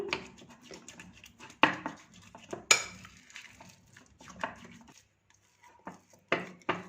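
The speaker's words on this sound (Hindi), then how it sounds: "चम्मच से मिक्स करना काफ़ी मुश्किल हो रहा है" A spoon scrapes and clanks against a bowl while mixing thick Kurkure snack batter, with irregular knocks and scraping strokes, close and fairly quiet.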